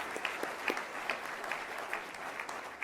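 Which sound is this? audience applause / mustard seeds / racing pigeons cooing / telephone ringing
audience applause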